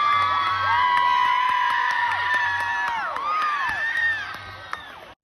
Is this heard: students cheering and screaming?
yes